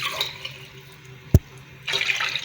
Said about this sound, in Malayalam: അതിന് കൂട്ടത്തിൽ ഒരു 1/2 കപ്പ് വെള്ളം കൂടെ ഒഴിക്കാം.